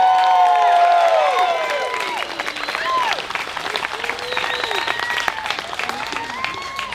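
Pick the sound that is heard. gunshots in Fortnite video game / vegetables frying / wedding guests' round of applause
wedding guests' round of applause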